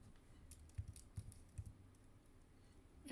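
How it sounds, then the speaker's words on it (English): Keys tapped on a computer keyboard during a barcode lookup at a pop-up auction, a few soft, quiet clicks spaced apart with low room hum underneath. "And typing stinks."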